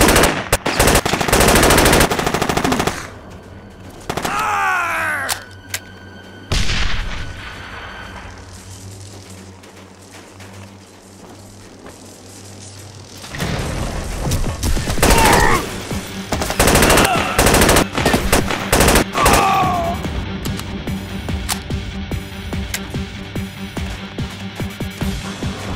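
Sustained automatic gunfire rattles loudly in the video game SAS: Secure Tomorrow, long bursts broken by a quieter lull before heavy firing resumes, with sharp single reports and shouted commands in between.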